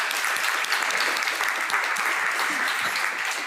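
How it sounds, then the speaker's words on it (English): An audience at a citizen science panel event gives a short burst of steady applause for a speaker. The clapping is continuous and fairly close, and no voices are heard over it. "But a big applause for Marisa."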